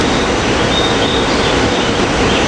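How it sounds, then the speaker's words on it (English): A SEPTA three-car train led by railcar 288 moves through 30th Street Station, a dense, even rumble of wheels and cars filling the whole moment with a thin metallic whine drifting above. "Got a 3-car train. We'll catch more at 30th Street with Railcar 288 leading our train"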